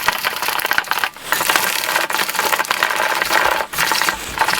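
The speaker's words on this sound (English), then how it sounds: "Add 2 eggs and whisk it well." Eggs being whisked into cake batter in a bowl, a continuous close, busy scraping and clattering of the whisk with short dips where the stroke pauses, loud and without talking.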